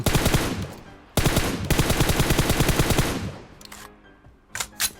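Rapid automatic gunfire in PUBG Mobile, loud and close, in two long bursts of fast regular shots separated by a brief gap, then a few scattered single shots trailing off.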